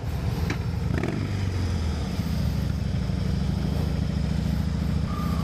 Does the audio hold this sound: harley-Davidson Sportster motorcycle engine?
yes